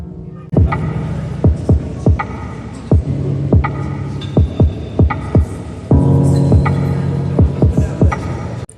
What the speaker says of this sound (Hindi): नाउ हम धारी पे सिलाई लगाएंगे एंड अंदर की साइड हम पॉकेट को लेके जाएंगे